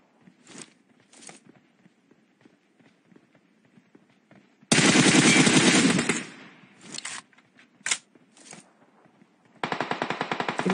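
Automatic gunfire from a shooting video game scrim, with faint clicks and shuffling steps, then a loud sustained burst around the middle, scattered short shots, and another loud rapid burst at the end; no talking.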